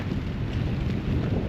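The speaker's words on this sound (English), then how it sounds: "It's pretty windy today." Heavy wind buffets the microphone at an outdoor Veterans Day ceremony, producing a loud continuous low rumble and roar with no other sounds.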